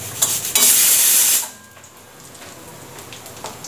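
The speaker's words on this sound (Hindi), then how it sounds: "और अभी छौंका लगाऊंगी। इसमें मैंने डाला है काला राई और जीरा थोड़ा सा और कटा हुआ लहसुन और प्याज।" Black mustard seeds, cumin, garlic and onion hit hot oil in a tempering, bursting into a loud hissing sizzle that lasts about a second before settling into a quieter spatter with scattered pops.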